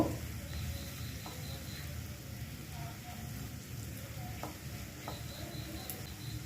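Black pepper and dried chili powder are stirred in a pan for Maggi noodles, giving a soft, steady rain-like sizzle with a few faint clicks throughout.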